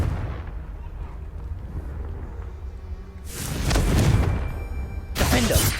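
The Confringo fire spell explodes in the video game Hogwarts Legacy: two heavy booming blasts, the second followed by a crackling burst, over a low rumble of in-game background noise.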